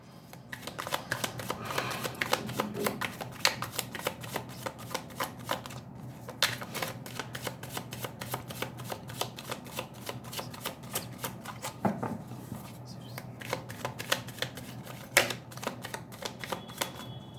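Tarot cards being shuffled by hand, a long run of quiet close riffling and soft flicking clicks in a fairly steady rhythm, with no voices.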